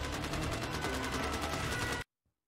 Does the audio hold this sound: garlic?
no